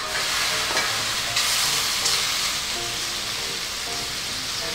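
Squid balls and imitation crab meat stir-fry in a hot pan for seafood pancit canton, a loud continuous sizzle with light scraping and no talking.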